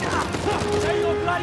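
Rapid bursts of video game gunfire from blind fire in Uncharted 4, a dense continuous fusillade with a sustained tone running through it, loud and close for a brief moment.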